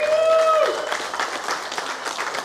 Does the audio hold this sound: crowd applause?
yes